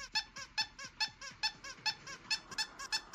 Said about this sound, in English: I didn't know it was a squeaky toy.